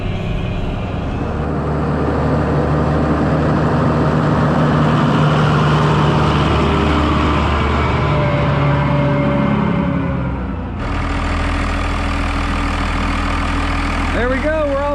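A tractor bush hogging corn stalks runs steadily with a loud, continuous low engine drone, a shift in tone near the end, and voices talking over it.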